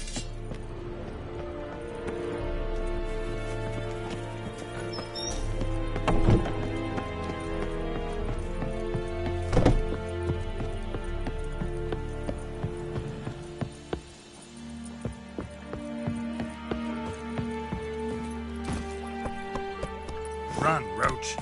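Roach the horse gallops in The Witcher with a steady, rhythmic clatter of hooves that runs throughout under loud orchestral music and scattered impacts.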